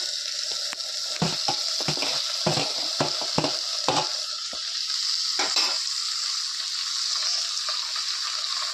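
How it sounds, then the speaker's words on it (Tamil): Tomatoes sautéing in a pan sizzle steadily and close by, while a spoon scrapes and clatters in a quick run of stirring strokes that stops partway, leaving only the sizzle. "தக்காளி போட்டு கொஞ்சம் வதக்கணும்."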